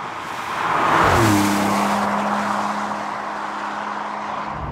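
A Porsche 911 (992) Turbo S drives through a bend, its engine note swelling to a steady loud drone as it rises and holds a sustained tone under a rushing wind and road roar, no talk.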